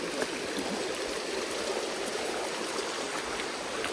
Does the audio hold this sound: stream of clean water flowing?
yes